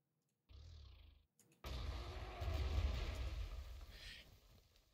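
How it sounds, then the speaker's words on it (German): Enemy artillery in the wargame Panzer Corps 2 lets off a short burst, then a long rumbling barrage of blasts with crackling debris that swells and slowly fades. "Und da ist feindliche Artillerie"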